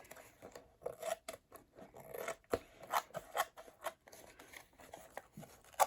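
Scissors trim paper for an art journal page in a quiet run of short, crisp snips, irregularly spaced and close by.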